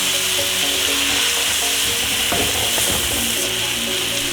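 Eggplant and ground pork giniling with oyster sauce and water is stirred in a hot pan, giving a loud, continuous sizzle under scraping and clacking of a utensil, close up with no voices.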